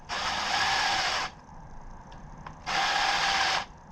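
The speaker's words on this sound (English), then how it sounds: "now I'm going to use the impact just to make sure that I can get it done faster" An impact wrench on the oil pump bolts of a Suzuki DRZ400 motorcycle runs in two loud buzzing bursts of just over a second each, with a quiet gap and small clicks between.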